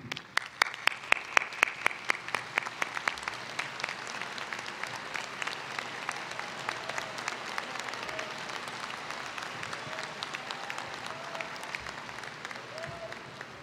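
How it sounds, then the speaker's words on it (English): A commencement audience in a large hall applauds graduates' families, sustained clapping throughout with distinct sharp claps standing out near the microphone early on, then settling into a dense, fairly distant wash. "Please, all of you stand so we can recognize and applaud all of you."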